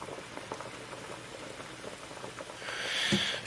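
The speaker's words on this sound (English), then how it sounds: "now that we got this pot rolling to a boil" A pot of water rolls at a boil on a stovetop, ready for potatoes: a continuous soft bubbling and popping at low level, close by, with a brief brighter splash or hiss near the end.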